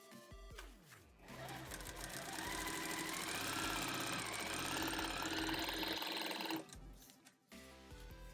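Close sewing machine stitching a quilt seam, a steady fast mechanical whir that starts after a brief hum, runs continuously for several seconds, then stops, with a few faint handling noises after.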